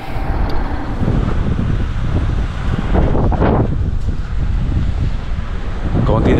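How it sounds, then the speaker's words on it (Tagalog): Strong wind buffets the microphone on a motorcycle riding through worsening, rainy weather in Luzon toward Batangas, a loud, continuous rumbling rush with gusty surges over the engine. "Lumakas yung hangin, tumilim yung panahon, umuulan na."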